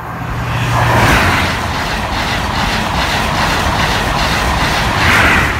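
A high speed train (HST, power car 43238 "York") rushes past a level crossing, a loud steady broadband roar of wheels and engine holding throughout, swelling slightly near the start and end.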